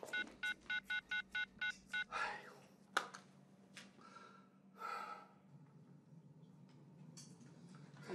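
A telephone keypad is dialed with seven quick, evenly spaced beep tones at the start, followed by a sharp click, breathing and faint rustling.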